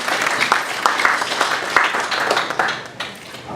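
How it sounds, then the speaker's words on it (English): An audience claps at a Nigerian power-sector dialogue event, a moderate round of applause with scattered sharp claps that thins out toward the end. "Please, a round of applause for the center."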